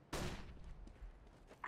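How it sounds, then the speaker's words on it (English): A flashbang is thrown in CS:GO on the Dust2 map: one sharp, forceful burst right at the start, decaying over a moment, followed by faint scattered clicks and thuds at low volume. "Throwing flashbang."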